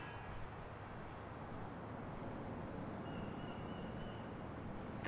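A train in Grand Theft Auto IV rolls into a station, a steady low rumble of railcars with faint high wheel squeal running alongside, continuous and fairly close throughout.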